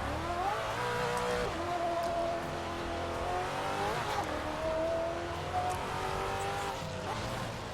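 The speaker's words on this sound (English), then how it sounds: "Oh, this car sounds good." Race car engine in iRacing or Assetto Corsa sim racing, a steady near drone rising and falling in pitch through gear shifts and revs, with faint tire noise.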